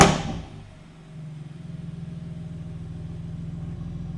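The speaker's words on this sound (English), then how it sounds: "We're going to start the car up, let it warm up." A BMW F82 M4 engine fires up with a sharp burst, then settles into a steady low, pulsing idle as it warms up, close and unbroken.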